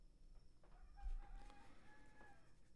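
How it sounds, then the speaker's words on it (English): Roosters crowing at three in the morning, a few faint drawn-out calls at a distance over a low background hum, with no speech. "the roosters are already crowing"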